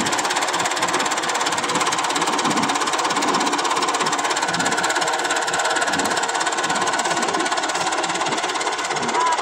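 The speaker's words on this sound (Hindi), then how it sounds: "इसके ऊपर ट्रैक्टर बड़ा ख्याल से फेरना पड़ता है" Tractor engine running steadily while driving back and forth over a pile of chopped corn silage to pack it down, a loud, continuous rough drone throughout with no talking.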